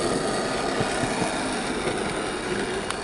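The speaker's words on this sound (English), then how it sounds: "So now we come to the running performance for the Dapol Class 73." A Dapol BR Class 73/0 model locomotive runs with a steady, continuous motor whir and faint track rumble, even in level throughout with no speech.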